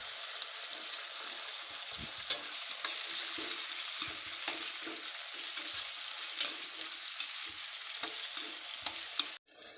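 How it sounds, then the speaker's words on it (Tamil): Tomatoes sizzle steadily in a hot pan while they are stirred for a quail egg gravy. Soft scraping strokes of the stirring sound under the constant frying hiss, which keeps going with no speech. "இந்த தக்காளி நல்லா வதங்கணும்."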